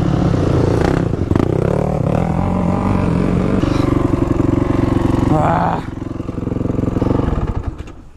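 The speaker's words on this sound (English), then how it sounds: "Joe's kicking his bike again" Honda CRF450 dirt bike being kick-started on an off-highway trail, with repeated loud, rough mechanical clatter and bursts of engine noise that catch and fade, close by, continuous for several seconds with some voice activity underneath.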